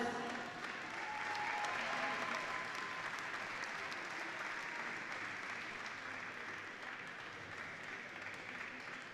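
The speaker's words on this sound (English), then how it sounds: "let's give them a warm round of applause" Steady, dense applause from a large crowd at a volleyball championship gold medal match fills the whole stretch, holding an even level without breaks or voices standing out.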